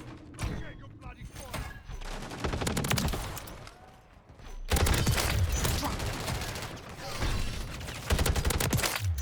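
Dense gunfire in the game Modern Warfare 3, with rapid automatic bursts and layered shots that drop briefly and then surge back loud, under occasional speech.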